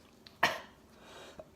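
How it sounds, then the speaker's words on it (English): A single sharp cough given on request during an oral mechanism exam, close and fairly loud, followed by a faint soft sound and quiet room tone. "can you cough for me?"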